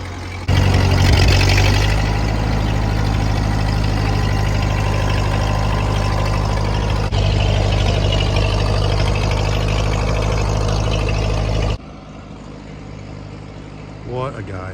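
A 1949 Ford 8N tractor engine idles with a steady, heavy low chug for several seconds, then the loud running stops and quieter ambient noise remains.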